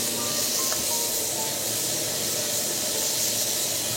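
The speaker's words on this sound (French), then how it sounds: "On va prendre nos petites Saint-Jacques et on va commencer à les dorer" Scallops searing in a smoking hot pan, giving a loud, steady sizzling hiss that holds unbroken for the whole stretch, with no one talking.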